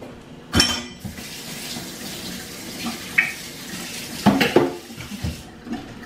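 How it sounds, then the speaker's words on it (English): A spoon rinsed under a running kitchen tap while making cinnamon cheesecakes, with a few sharp metallic clinks and clatters against the sink over a light background of water. "I'm gonna wash this spoon off so that we can spoon the stuff in"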